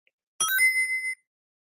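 A single bright bell ding plays as a sound effect on a baseball live stream, a sharp strike with a ringing tone that decays within about a second, heard alone against silence.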